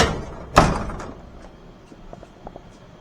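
An aftermarket fiberglass car door slams shut with one firm, close thump, then a few faint light clicks fade out.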